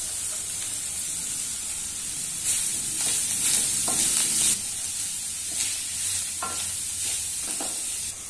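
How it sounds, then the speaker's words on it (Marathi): Spices and chopped wood apple sautéing for a chutney, a continuous sizzle and hiss with several scraping stirs of a spoon in the pan, close and fairly loud, no talking. "हे सगळं परतून घ्यायचं व्यवस्थित मिक्स करून घ्यायचं आहे"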